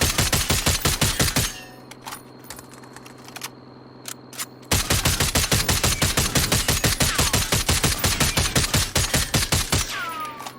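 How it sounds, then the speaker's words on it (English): Rifle fire aimed at a vehicle in Call of Duty: Warzone, a loud, rapid stream of automatic shots that stops for a few seconds and then resumes in a long, steady burst, with no voices. "So we've already gone through two 30 round mags, so 60 rounds."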